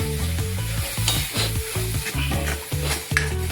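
Urad dal tempering sizzles steadily in hot oil while a spoon stirs it, scraping the pan in a quick repeating rhythm, close and loud with no talking.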